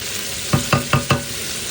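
Pork binagoongan frying in a pan, four quick evenly spaced pops of spitting oil, close and crisp, over a constant sizzling hiss.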